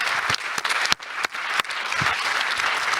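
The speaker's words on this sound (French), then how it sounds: "on peut l'applaudir, parce qu'elle a produit beaucoup" Dense audience applause fills a lecture hall in France, a steady wash of many hands clapping, loud and continuous with a few sharper claps standing out.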